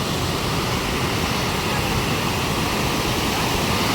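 Fast-falling water at a jungle waterfall with people bathing makes a loud, dense, unbroken roar, close and steady for the whole stretch.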